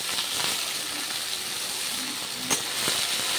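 Dhenki shak greens hit a hot pan in a Bengali village-style kitchen, giving a steady faint hiss and sizzle with a couple of brief crackles, no talk over it.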